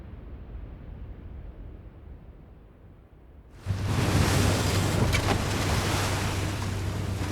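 Pacific ocean waves wash around an old sailboat, starting as a soft distant hiss and jumping to a loud, close rush of surf and wind buffeting the microphone.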